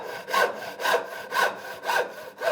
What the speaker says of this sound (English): I'm going to start with a handsaw and make a cut right down the middle here